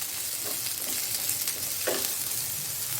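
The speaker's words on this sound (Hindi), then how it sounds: "ये 2 प्याज हैं, इसको मैं छोटे छोटे टुकड़े में काट दी हूँ, डाल देंगे और इसको चला देंगे हाथ।" Small chopped onions hiss in hot oil for butter chicken, a steady soft sizzle with a couple of brief stirring scrapes, close and fairly quiet with no voices.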